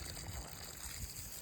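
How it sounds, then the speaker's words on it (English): Water trickling and pouring steadily from a hose or can while watering plants in a backyard garden with young mango and guava trees, a continuous soft splashing stream with low gurgles, fairly close and faint. "Just trying to water everything and make sure everything is happy"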